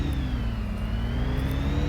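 A Renault DeZir concept car, rated at 150 horsepower, drives in the Real Racing 3 mobile racing game, giving a steady engine drone with a rising and falling whine that holds throughout the short stretch.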